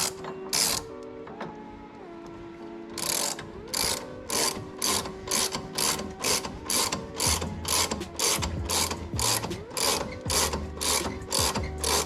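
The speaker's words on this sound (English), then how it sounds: "Now we're just gonna tighten these spring compressors down" Ratcheting spring compressors being tightened on an Audi A6 coilover, a long run of loud, close, evenly spaced metallic clicks from the pawl with short pauses between strokes.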